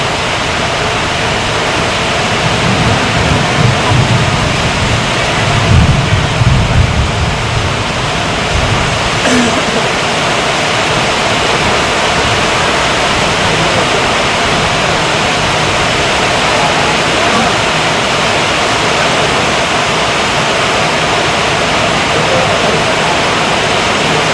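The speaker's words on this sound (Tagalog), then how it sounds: "Malakas ulan." Heavy rain pours down in a dense, steady hiss that fills the scene, loud and unbroken throughout, with a brief low rumble swelling partway through.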